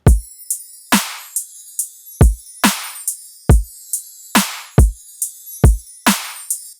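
Electronic dance music main drum pattern, punchy booming kick drum hits alternating with bright layered snare cracks, loud and isolated, about a dozen hits in a steady syncopated rhythm.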